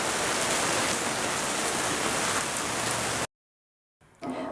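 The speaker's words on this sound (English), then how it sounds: "It's really raining, isn't it?" Heavy rain pours down outdoors beside a swollen creek, a dense, loud, steady hiss that cuts off abruptly, followed by a brief silence and a faint return of sound.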